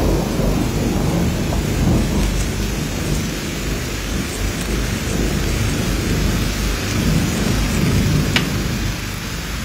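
Heavy rain pours down steadily with rolling thunder rumbling beneath it, a loud, dense wash of sound with no voices.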